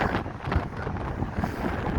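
Strong wind on Blackpool promenade by choppy seas, buffeting the microphone in a loud continuous roar with gusty low thumps and uneven surges throughout.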